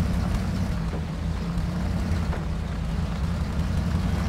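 A heavy truck in MudRunner with its rear wheels spinning freely in deep mud, a steady low engine drone and churning rumble, close and continuous without talk.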